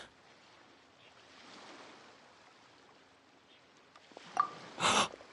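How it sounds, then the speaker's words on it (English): Ocean surf rolling in a PS4 video game harbor scene, a low continuous wash building slightly, then a couple of sharp bursts close together near the end, no talking. "the sound of the ocean?"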